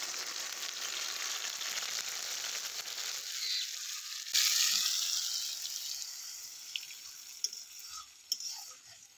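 Cumin, coriander, green chilli and ginger pastes thinned with water are poured into a hot frying pan, with a loud close hiss that surges as the liquid hits and then fades, and a few clinks of a utensil, no talking.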